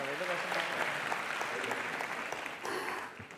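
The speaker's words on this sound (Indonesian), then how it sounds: "Sekali lagi dong tepuk tangan" A live studio audience at a televised talk show anniversary event in Jakarta claps steadily in a dense, even wash that tapers off near the end.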